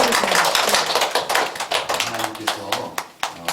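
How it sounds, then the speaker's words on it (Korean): Church congregation clapping during a Sunday worship service, a dense burst of applause near the microphone that thins into scattered claps toward the end. "우리 다시 한번 하나님께 영광의 박수를 드리겠습니다."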